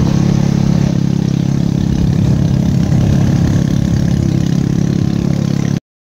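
A vehicle engine idles at low revs near a Shiva temple at Dindigad in Sonale village, a steady, loud, even drone running unbroken for about six seconds with no talk.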